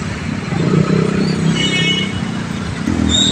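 Heavy street traffic on Tomas Mapua Street in Santa Cruz, Manila: a steady low rumble of idling and creeping cars and motorcycles, close by and continuous, with no voices.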